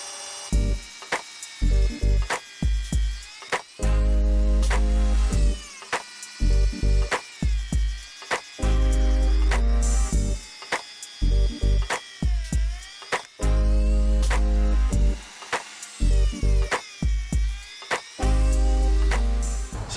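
A power drill bores into a wooden tree stump in repeated bursts, the motor revving loudly then stopping, over and over with short silent gaps between runs.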